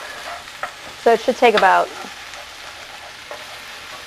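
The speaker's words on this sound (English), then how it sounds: "I'm gonna add about that one large onion, and we're gonna let this cook until it turns translucent" One large onion cooking in a pan gives a soft, steady sizzle underneath a brief spoken remark.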